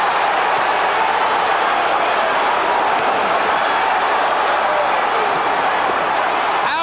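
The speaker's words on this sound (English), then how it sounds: "Crowd gets excited." A boxing crowd at the Evander Holyfield vs George Foreman fight roars in a steady, loud wall of cheering and shouting that holds without pause throughout.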